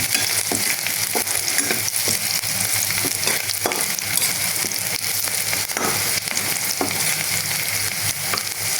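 Onions fry in a pan with turmeric, chili, salt, spices and pabda fish eggs, giving a dense, loud, continuous sizzle with faint irregular ticks and pops throughout and no talking.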